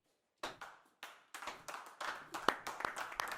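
Neighbours come out of their houses and start clapping for someone brought home by police, a scattered, uneven round of hand claps that begins sparse and builds into denser applause.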